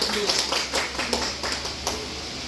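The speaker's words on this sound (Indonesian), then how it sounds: "Tepuk tangan buat kita semua." Sparse hand claps from a small group ring out over a low background hum, a handful of separate claps spaced unevenly at moderate loudness, with a faint voice in the background.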